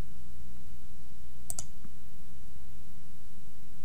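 A single quick double click of a computer mouse, sharp and close, in an otherwise quiet room with a low electrical hum and no speech.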